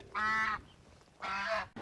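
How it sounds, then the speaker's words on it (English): Two loud, nasal honking quacks from ducks outdoors in cold weather, each lasting about half a second, separated by a short pause. "You can see the ducks are at least excited to come out."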